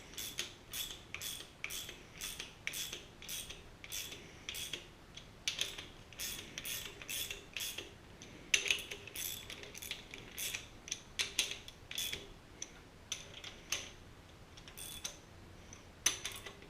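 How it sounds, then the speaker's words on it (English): A ratchet snugs the rocker shaft bolts on a 1966 Ford Galaxie 500 engine, giving quiet, close runs of rapid metallic clicking in short repeated strokes with brief pauses between. "both rocker shafts are just hand tight with a ratchet"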